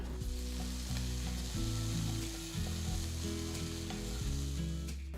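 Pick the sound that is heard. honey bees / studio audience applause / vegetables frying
vegetables frying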